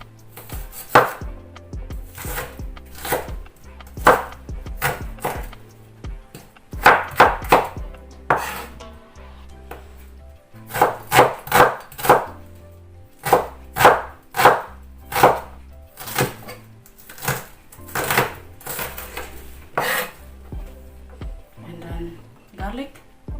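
A red onion is chopped on a wooden board, with quick bursts of sharp knife thuds in uneven clusters, some louder and closer, spread over more than twenty seconds, while a voice speaks at times.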